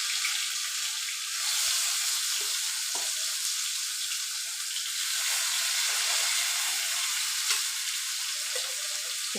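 Chicken pieces, unstirred, frying in hot oil: a steady, loud broadband sizzle with a few faint clicks and pops, continuous throughout with no voices.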